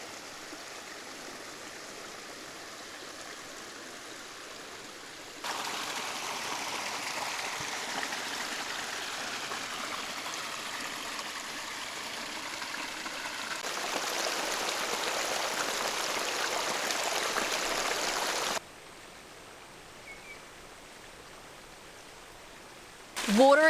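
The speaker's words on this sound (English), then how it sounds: "there's so much incredible water flowing through the property" Rainwater rushes through an Australian homestead property after heavy rain in a steady, hissing stream. It grows louder and brighter midway and then drops back, with no voices.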